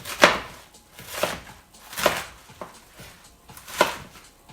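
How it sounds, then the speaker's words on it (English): A knife chops a cabbage into roughly inch-sized pieces on a cutting board while sukiyaki beef hot pot is being prepared: five or so sharp, close thuds spaced about a second apart. "Cabbage, we'll cut this up into about 1 inch pieces, roughly."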